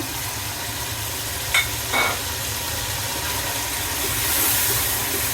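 Biryani masala and yogurt stirred into hot frying oil in a pan: a steady, close sizzle with a spoon scraping through, a couple of brief clacks, and the frying swelling slightly toward the end.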